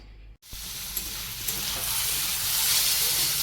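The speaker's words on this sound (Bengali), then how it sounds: "একদিকে আলু ভাজা আর একদিকে তেল গরম দিয়েছি" Potatoes frying in oil give a loud, close sizzle that starts abruptly after a brief silence and swells into a dense, steady hiss with a few sharp crackles.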